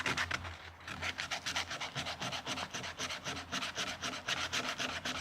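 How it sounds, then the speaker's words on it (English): Steady back-and-forth rasping of 80 grit sandpaper on wood by hand, close and loud, in a quick even rhythm of repeated strokes with no talking. "This is just an 80 grit paper."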